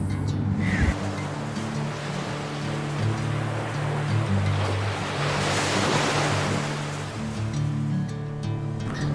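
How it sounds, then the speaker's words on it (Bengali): Ocean surf rolling onto a beach in Pondicherry, a steady broad wash of waves with wind noise across the microphone and a low engine-like hum beneath, continuous and fairly loud throughout. "বিচটা দেখো, আর জলটাও দেখো কত সুন্দর, সবাই স্নান করছে।"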